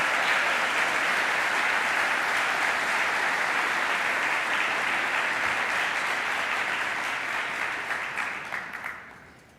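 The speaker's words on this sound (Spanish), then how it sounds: "Para todos, por favor, un fuerte aplauso." A large audience applauding at a keynote address by Luis Caputo, dense steady clapping from the start that slowly thins and fades out near the end.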